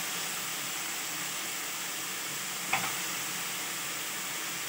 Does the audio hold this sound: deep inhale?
no